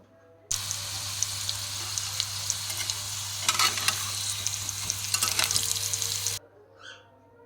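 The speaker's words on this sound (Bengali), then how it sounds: "এইভাবে করে আলুগুলোকে একটু লাল লাল করে ভেজে নেব।" Steady loud sizzling of potatoes frying in oil, with occasional scraping stirs, close up; it stops abruptly near the end.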